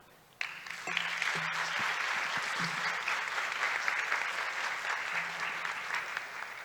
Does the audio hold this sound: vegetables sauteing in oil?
no